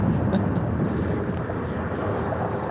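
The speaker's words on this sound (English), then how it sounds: "Another landing helicopter." Steady, loud rotor roar of a landing helicopter close by in New York, a continuous broadband rumble with no clear pauses.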